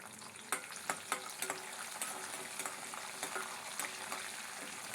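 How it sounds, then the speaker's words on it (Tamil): Garlic and curry leaves sautéing in hot oil for a small-onion garlic kuzhambu, giving a steady close sizzle dotted with sharp crackles and pops of stirring, with no talking. "சேர்த்து இந்த எண்ணெயிலே நல்லா வதக்கணும்."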